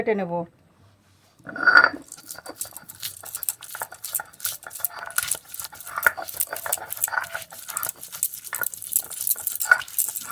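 Spice paste with garlic being ground by hand, giving a steady, close scraping and rubbing texture with light knocks that runs continuously after a brief pause at the start.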